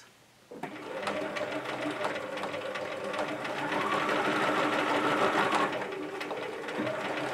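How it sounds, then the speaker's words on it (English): A sewing machine stitches in the ditch along the top of a dress shoulder seam, a steady, close, continuous whirring hum that starts after a brief quiet moment and runs unbroken to the end. "I'm going to stitch in the ditch along the top of the"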